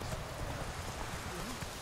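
Roach, a horse in The Witcher 3, galloping with a steady rapid clip-clop of hooves under continuous outdoor game ambience.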